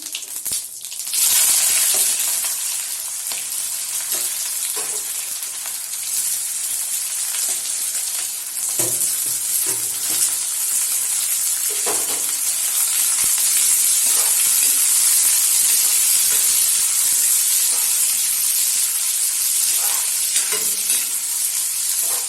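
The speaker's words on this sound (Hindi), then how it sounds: "कढ़ाई में तेल गर्म हो चुका है। हम इसमें जीरा डाल देंगे। इसके साथ में इसमें प्याज डाल देंगे।" Cumin seeds and onion sizzle in hot oil in a kadhai, a loud steady frying hiss with occasional stirring scrapes, heard close up with no talking.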